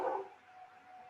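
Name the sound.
dog barking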